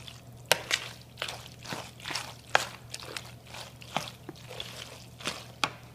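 Moist squishing and splatting as macaroni is stirred into thick cheese sauce, with irregular wet pops and clicks close by over a faint background hum.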